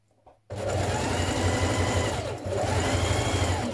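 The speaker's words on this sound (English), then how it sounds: "Then I'm going to baste again, large stitch all the way to the bottom" A sewing machine stitches a back tack on a 1960s Simplicity 9447 vintage dress, starting abruptly and running in a loud, steady whir with one brief pause midway.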